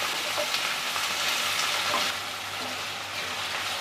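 Onion, tomato, green chili and curry leaves frying together in a pan give a steady, close sizzle with occasional stirring scrapes, unbroken and without talk.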